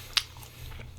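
Chewing squid bought as night market food, eaten close to the mic: one sharp wet bite followed by soft, quiet squishy chewing.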